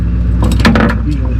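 Metal trailer safety chains clink and jangle briefly and close by. They are being hooked up while hauling a John Deere 3055 tractor, with a vehicle humming in the background and a voice nearby.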